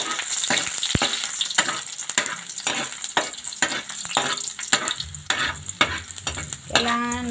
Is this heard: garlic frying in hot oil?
yes